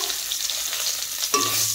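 Whole spices and bay leaf crackle and sizzle steadily in hot oil, a continuous bright frying hiss with a brief stir partway through.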